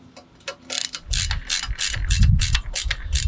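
A ratchet wrench tightening bolts on a Rec Teq Matador gas wok burner assembly, with a rapid run of clicking pawl strokes up close, growing steadier and louder as the bolt is driven down.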